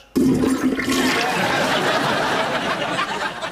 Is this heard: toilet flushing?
yes